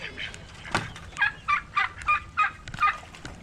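A Cochin chicken calls in a run of about seven short, evenly spaced squawking notes, close and clear, with a brief sharper sound near the start.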